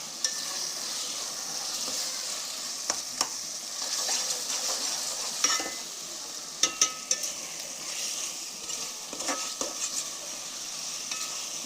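Chopped tomatoes sautéing in a pan for mutton biryani, a steady close sizzle with scraping stirs and occasional sharp clicks of a spoon against the pan.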